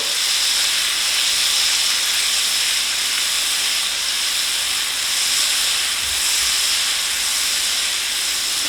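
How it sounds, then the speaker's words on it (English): A whole stick of salted butter melts in hot oil in a pan as the base for a roux, giving a steady, fairly loud hissing sizzle that holds evenly throughout with no talking. "We're going to melt that entire stick of butter"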